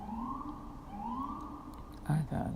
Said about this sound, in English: The ambulances outside are chiming in.